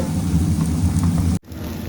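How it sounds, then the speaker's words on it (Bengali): Dahi vada lentil fritters deep-fry in hot oil with a dense, loud crackling hiss that stops abruptly partway through and then settles to a fainter background. "তো এইভাবে বড়াগুলোকে লাল করে ভেজে নেব"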